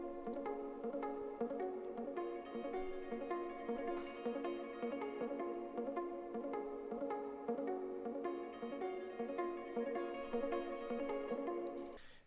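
Guitar playing a soft ear-candy melody through a Deserted preset, steady sustained plucked notes and chords ringing continuously at even volume with no voices, fading out at the end.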